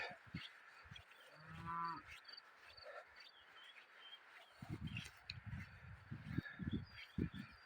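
A cow moos once, fairly distant, over a background of chirping insects, followed by low rumbling shuffles and soft thuds nearby, at the ruins of the ancient fortress town of Targim in Ingushetia.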